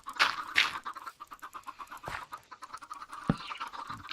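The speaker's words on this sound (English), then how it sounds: "I might turn down the chickens there, because they will be driving you guys mad" Chickens in a Minecraft-style video game cluck in a steady, rhythmic stream of short clucks, with a few louder squawks and clicks breaking through the repetition.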